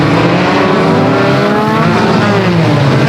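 Enduro race cars at Flamboro Speedway roar away from a start, loud overlapping engines revving and accelerating together in a dense, continuous wall of sound.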